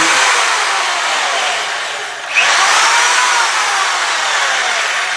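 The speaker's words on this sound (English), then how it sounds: "It's got a drill motor powering it, and I've got a light dimmer up here to control the speed." A homemade wood lathe, built like a metal lathe with cross feed, saddle and power feed, runs on a drill motor under light-dimmer speed control, giving a loud, steady close whir that briefly sags and then surges back mid-run, with no talking.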